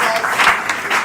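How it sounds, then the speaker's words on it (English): Audience applause at a school competition event, a dense wash of clapping from a crowd filling the short moment with steady, fairly loud sound and a slight swell in the middle. "Give yourself an applause."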